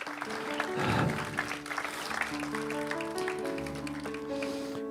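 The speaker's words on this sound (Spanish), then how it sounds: "Dale un fuerte aplauso de gratitud al Señor" A church congregation claps in gratitude during a sermon, with dense applause under tonal voices or music that carries through the whole short stretch.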